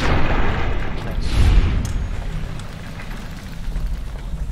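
A deep booming explosion in the Fallout: New Vegas video game, loud and close, rolling into a rumbling tail with lighter crackles and debris-like rattles afterward.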